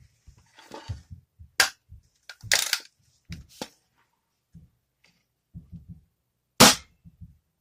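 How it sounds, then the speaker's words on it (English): Several sharp, snappy shots ring out from a BB gun firing homemade bullets at a cardboard target from a distance, each a brief crack with quiet gaps between, one especially loud burst near the end. "Let's see if I can shoot this far away and it'll go into the cardboard."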